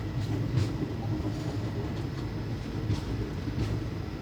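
Train running on the main line toward Mangalore Junction, heard from inside a 3A coach as a faint, steady low rumble of rolling wheels and carriage noise with soft rhythmic clicks.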